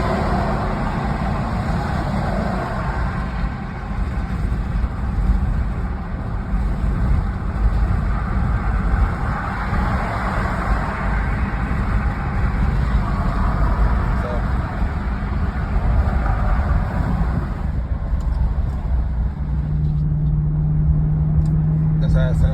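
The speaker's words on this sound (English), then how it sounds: "That's how it sounds with the windows down." A 2020 Dodge Durango in sport mode cruising on an expressway with the windows down: a loud, steady exhaust drone blended with road and wind roar, unbroken for over twenty seconds.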